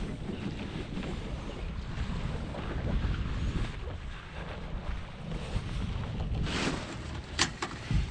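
A small boat with a Watersnake trolling motor moves across open water, a steady low churning hum under wind buffeting and lapping water, with a couple of brief sharp knocks near the end.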